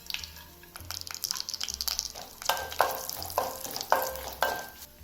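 Cashews frying in a pan for katte pongal, a bright crackling sizzle in hot oil with repeated scraping strokes as they are stirred, close and fairly quiet.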